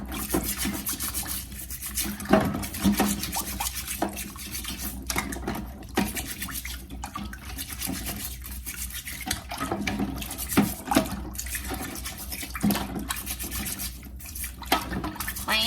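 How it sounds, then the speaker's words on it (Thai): Freshly gathered freshwater clams from a lake in Finland are washed in water, giving continuous close splashing, scrubbing and shell-rattling for the whole stretch, with no talking. "ตอนนี้ก็นำมาล้างค่ะทุกคน นำมาล้างให้สะอาดแล้วเราก็นำไปต้มนะคะ"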